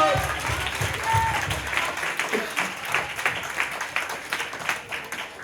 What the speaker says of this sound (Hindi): प्रभु के लिए ताली हो जाए।